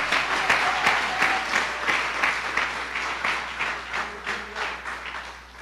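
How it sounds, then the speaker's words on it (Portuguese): Church congregation clapping together in sustained applause, a dense, steady wash of many hands that swells and eases in waves across the whole stretch, fairly loud and close with no voices over it. "Uma salva de palmas ao Senhor."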